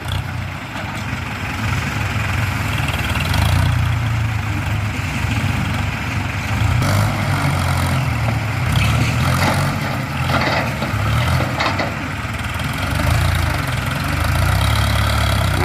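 A Ford farm tractor engine idles and runs steadily while clearing land for sugarcane, a continuous low rumble throughout with a few faint clanks on top.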